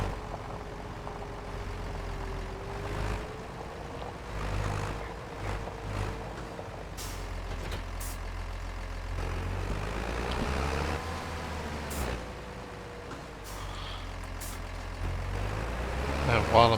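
Truck engine rumbling steadily as it parks a trailer back at the farm shop in Farming Simulator 25, with brief air-brake hisses and clanks over the drone.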